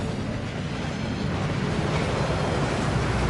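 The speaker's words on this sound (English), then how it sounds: "That waterfall washes away all enchantments." Steady roaring rush of the Thief's Downfall waterfall in the Hogwarts Legacy video game, a dense, constant broadband wash of falling water filling the whole clip without any voices.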